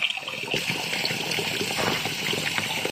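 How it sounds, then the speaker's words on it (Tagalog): Water pouring steadily out of a household water pump's outlet, a continuous splashing rush with trickling texture, close and fairly even throughout, cutting off abruptly at the end. "Medyo lumilinaw na ang labas ng tubig."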